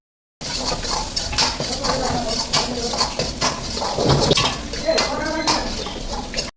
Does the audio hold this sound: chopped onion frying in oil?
yes